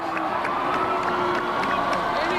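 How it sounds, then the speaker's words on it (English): A large crowd of Gonzaga basketball fans cheering and shouting continuously, loud and close, with whistles and whoops rising over the steady roar. "You can see the fans are just going crazy, waving signs, cheering on the basketball team."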